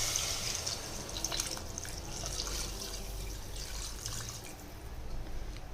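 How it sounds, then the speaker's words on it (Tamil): Water is poured into a cooking pot while making a vegetable kurma, a steady liquid splash and trickle with dripping, close and moderately loud throughout with no talk. "இதில் இப்போ நான் கொஞ்சமாக தண்ணி ஆட் பண்ணிக்கிறேன்."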